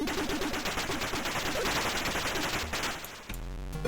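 Rapid, steady gunfire from shooting enemies in the Atari ST game Resolution 101, a regular rattling stream of shots at even rhythm that stops abruptly near the end, replaced by a low electronic hum.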